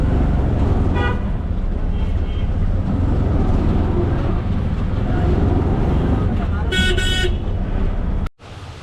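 Dense, loud street traffic in Dhaka, Bangladesh, heard from inside a moving auto rickshaw, with a steady engine and road roar and several short horn toots, including a longer honk near the end.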